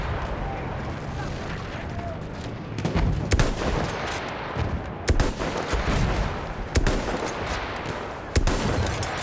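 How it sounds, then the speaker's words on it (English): Dense battlefield din from a multiplayer war shooter, with rolling gunfire, booming blasts and sharp transient cracks stacking over a constant roar; loud and close throughout, with voices mixed in. "Enemy machine gun."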